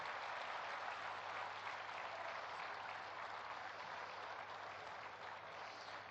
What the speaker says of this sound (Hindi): एक दूसरे के उत्साहवर्धन में तालियों की गड़गड़ाहट कर रहे हैं